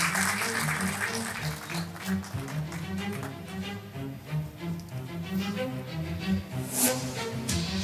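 An audience applauds at the award night of an international short film competition in Sultanbeyli, with sustained clapping that rises and falls over several seconds, a few individual claps standing out near the end.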